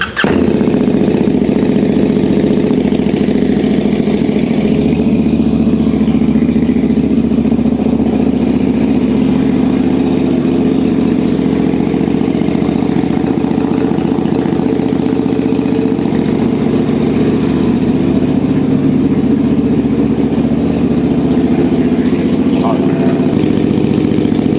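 A custom MotoGP-style motorcycle engine runs continuously at close range, a loud steady mechanical drone with a rough low throb that holds level throughout.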